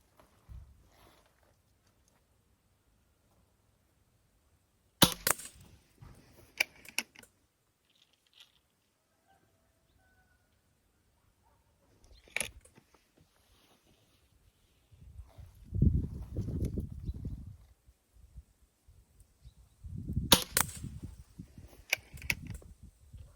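A Shanghai B1-1 air gun firing at a 10-metre target: a few sharp, isolated shots spaced seconds apart in a quiet room, with soft handling noise and small clicks between them.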